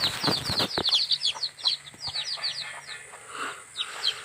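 A hen clucks and calls in short bursts in a yard near flowers, close and clear, with chirping birds overlapping throughout.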